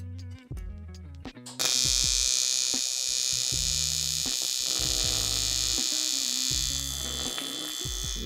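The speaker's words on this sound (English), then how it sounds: "So I'm just gonna do some welds right here, right now." Welding on a VW Passat in a garage: a steady loud crackling buzz of the arc runs almost continuously after a few short starts, with a low electrical hum underneath.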